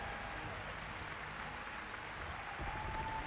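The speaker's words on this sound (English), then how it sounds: "Wonder how many people that are clapping for this guy right now laid people off" Audience applause at the Game Awards, a steady, faint wash of clapping from a large crowd heard at a distance throughout.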